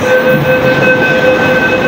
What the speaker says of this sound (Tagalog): maingay kasi nandito tayo sa tren, sa loob ng station ng tren